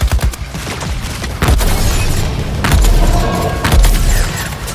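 Gunfire in the Suicide Squad action video game, with Deadshot laying down cover fire: loud, dense bursts of shots and booms in quick succession, mixed with game action sounds.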